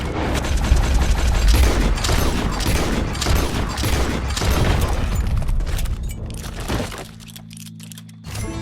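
Rapid, dense gunshots crackle almost nonstop in Red Dead Redemption 2 during an attempt to capture a circus beast, loud and close, thinning out near the end into a low rumbling tone.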